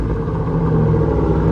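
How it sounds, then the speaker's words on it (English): A 1987 Chevy C10 pickup, abandoned for over ten years, getting a cold rev: a loud, deep rumbling engine note that swells slightly and holds steady, close by with no talk. "Just go ahead, give her a little cold rev here."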